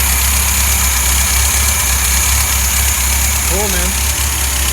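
Rebuilt VW 1600 engine fitted with a startup carburetor idles loudly and steadily at close range, a constant rumbling drone throughout, with someone briefly speaking over it near the end.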